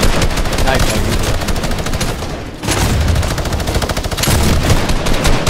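A minigun fires in the Fortnite Shockwave limited-time mode. Loud, rapid, continuous automatic gunfire runs through the clip, with one brief dip midway before the stream resumes.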